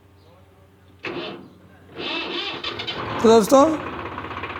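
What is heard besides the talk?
Swaraj 735 tractor engine starting and idling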